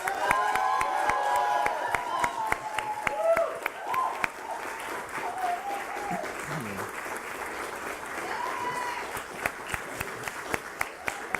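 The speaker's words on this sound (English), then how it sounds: "Let's kick things off with a round of applause." Audience applause at a Nasdaq opening bell event in Times Square, with steady dense clapping from a crowd that carries on for the whole stretch, with a few scattered shouts and cheers mixed in.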